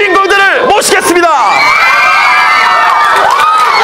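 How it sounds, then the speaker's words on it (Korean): A theater crowd at a Korean film stage greeting for the actors and director of Dangerous Meeting 2 erupts in loud, high-pitched screams, shouts and cheers, close and sustained, with voices rising and falling in wailing swells. "소리 질러!"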